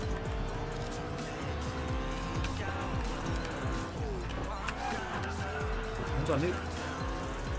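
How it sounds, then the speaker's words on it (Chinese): McLaren P1 in a racing video game, its engine droning steadily while the tires squeal and skid as grip is lost under the handbrake. The screech rises in short streaks over the car noise, with someone talking throughout. "看一下手刹，哇，又断胎了。"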